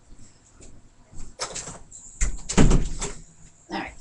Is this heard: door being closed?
yes